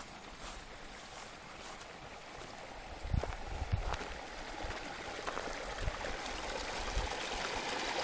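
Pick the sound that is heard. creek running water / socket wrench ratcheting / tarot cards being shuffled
creek running water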